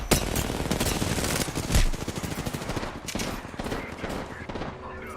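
Dense, sustained automatic gunfire from a Call of Duty: Warzone match crackles nonstop, with rapid bursts overlapping and one heavier blast near the middle, loud and close throughout.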